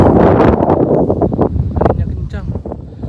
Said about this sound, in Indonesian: Tuh suasana guys, anginnya kencang, kabutnya tebal.